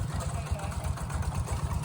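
A new farm tractor's engine runs with a steady low mechanical throb, fairly distant and even, with no speech heard.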